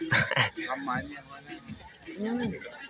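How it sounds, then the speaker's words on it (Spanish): A dog barks and yelps on a football pitch at a match in Caaguazú, Paraguay, short close barks mixed in with people talking nearby. "Saquen a ese perro de la cancha."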